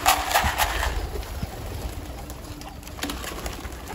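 Pigeons cooing on a rooftop, soft low coos repeating close by over a busy outdoor background with faint rustles.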